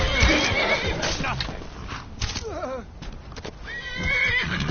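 A horse in the Skyrim video game neighs and whinnies with rising, wavering calls, amid hoof clip-clops and combat noise, loud and close throughout.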